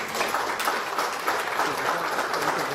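An audience applauds at a competition prize ceremony after a final, producing dense, sustained clapping from many hands at moderate distance, steady in level throughout.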